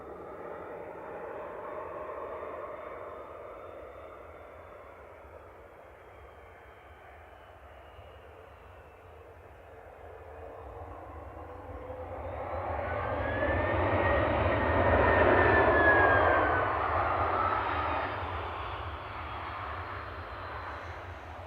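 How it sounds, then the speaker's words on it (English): Airbus A330-300 landing at Manchester Airport, a broad engine rush that dips then swells into a short loud burst of reverse thrust before easing off, heard from a distance. "Just a short breath of reverse from G. Isla there with flight 930 from Bridgetown, A330-300."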